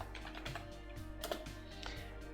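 Quiet keystrokes tap on a computer keyboard while someone writes a first Python script, with a quick, irregular run of soft clicks close by and no one speaking.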